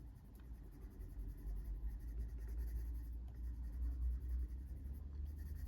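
A crumbly coloured pencil rubs across paper in a steady, soft scratchy scrape with small rhythmic strokes, close and quiet, with no voice.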